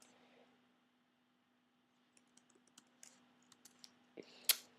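Typing on a computer keyboard while writing HTML: a quiet lead-in, then a run of light, irregular key clicks that grows slightly louder, ending in a sharper burst of close clicks, with no talking.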